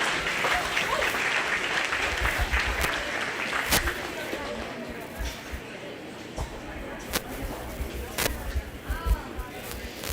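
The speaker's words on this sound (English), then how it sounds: "give this young man a round of applause" Audience applause at the Greene County Iowa Fair for a young exhibitor's market project, a steady clapping crowd filling the space with a few sharper claps standing out, while someone talks over it.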